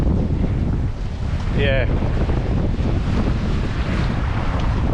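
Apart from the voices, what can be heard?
strong wind on a sailing trailer sailer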